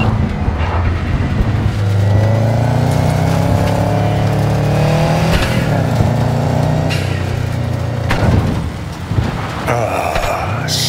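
A car drives steadily in Cyberpunk 2077, its engine holding a continuous mid-level hum with some rising revs and a few sharper bumps toward the end, and no talking over it.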